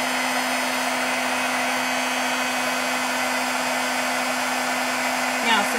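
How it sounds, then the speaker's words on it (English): A heat gun blows hot air for embossing paint on a craft board, producing a steady loud whooshing roar with a constant motor hum from start to finish, ending in a brief small clatter. "The hotter the gun gets, the faster the embossing goes."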